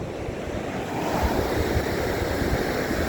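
Ocean surf breaking and washing near a rocky cliffside shore, with steady wind buffeting the microphone; a continuous, loud roar that swells slightly after the first second, with no voices.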